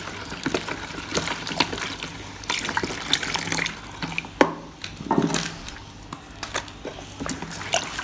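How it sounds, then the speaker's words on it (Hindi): Plain water is poured into haleem batter in a kitchen, giving a loose splashing and trickling with small irregular spatters, near and fairly quiet, with no voices. "अब इसमें थोड़ा सा मज़ीद पानी ऐड करेंगे।"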